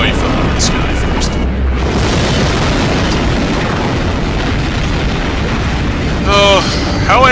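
Hind D helicopter exploding in Metal Gear Solid: a loud, sustained roaring blast with rumbling debris filling the whole stretch, a short sharp burst near the end.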